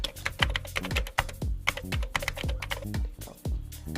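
Rapid typing on a computer keyboard while entering a Google Takeout search, with close, crisp key clicks and thumps in a busy, steady rhythm and no talking.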